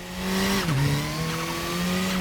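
A KTM X-Bow race car in a racing video game brakes through a hairpin at Knutstorp, its engine note falling and then holding a steady hum as the car regains grip.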